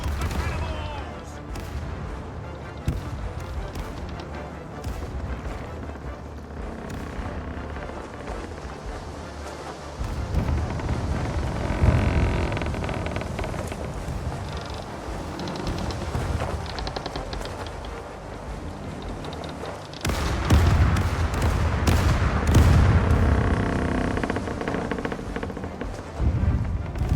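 Ship cannons boom in the pirate sailing game Caribbean Legend, heavy low blasts that come in rolling bursts. A loud volley arrives midway and another near the end, over a constant background rumble.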